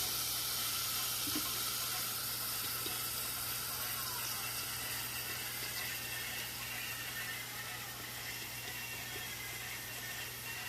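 Garlic, onion and chili frying in a pan with oil give off a steady, dense sizzle and hiss that holds fairly loud and even throughout, with no talk over it.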